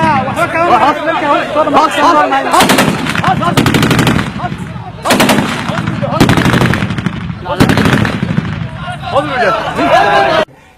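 Bursts of automatic gunfire during an al-Shabaab attack on a compound in Somalia, several loud rapid volleys of a few seconds each, heard between stretches of crowd chatter and voices.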